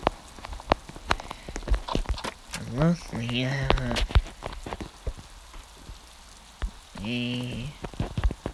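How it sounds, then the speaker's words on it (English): Steady rain patters on a surface throughout, with scattered drips, while a person speaks briefly over it in short bursts. "And of course, it's raining."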